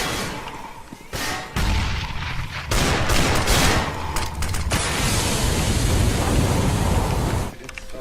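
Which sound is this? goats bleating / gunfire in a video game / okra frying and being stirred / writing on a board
gunfire in a video game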